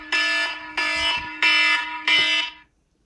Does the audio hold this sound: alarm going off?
yes